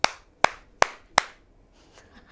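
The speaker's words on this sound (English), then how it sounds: "Let's clap for a bit." A few people clap in a classroom: four sharp, evenly spaced claps sound close, followed by a couple of softer scattered ones.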